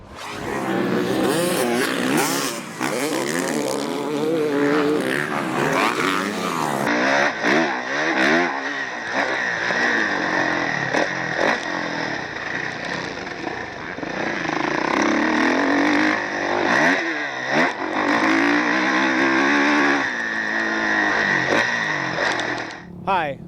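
A 2014 Kawasaki KX450F motocross bike ridden on the track at Milestone MX Park in Riverside, California, its engine revving up and down in loud bursts and sustained pulls, with a brief shift in tone partway through.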